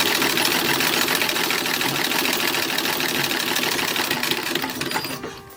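A domestic sewing machine stitching the cuffs of a 1920s-style summer party dress, running in one steady, continuous mechanical whir that holds even and loud before easing off near the end.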